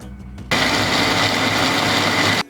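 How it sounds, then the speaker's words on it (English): A Ninja blender on its fruit puree setting blitzes fruit puree with icing sugar, kicking in abruptly as a loud, steady high-pitched whir that runs for about two seconds and cuts off sharply, with no talking. "I'm just going to blitz it in my Ninja"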